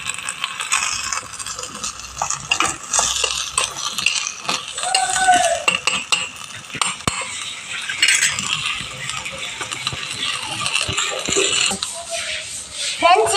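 A small spoon clinks and scrapes around a miniature pot while stirring crushed garlic into the mixture for a tiny pulisatham dish. The light metallic taps come close together and irregularly, with soft talking underneath.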